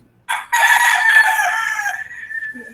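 A rooster crows once, loud and close, a drawn-out cry that trails off over about two seconds.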